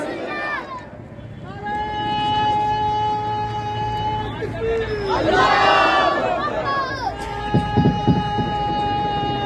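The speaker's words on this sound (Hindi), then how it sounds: "बीच में से और नारा लगाएं, नाराए तकबीर, नाराए रिसालत" At an Eid Milad-un-Nabi gathering in Rajouri, a leading voice calls out and a large crowd answers with loud shouted religious slogans, rising in a surge midway before the leader's voice returns.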